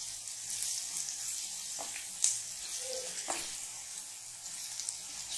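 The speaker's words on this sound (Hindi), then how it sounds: "प्याज के साथ हमने लहसुन को 1 मिनट तक भून लिया।" Chopped onion frying in a pan with coarsely crushed ginger-garlic paste, a steady close sizzle with a few stirring scrapes and no talking.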